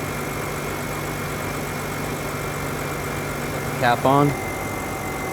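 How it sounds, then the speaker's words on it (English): A 2004–08 BMW X3 engine idles steadily with the coolant cap on, a low even hum running throughout, while a voice speaks briefly near the end. "I'm going to start the vehicle up, let it run, let it idle for a little bit, let it stabilize"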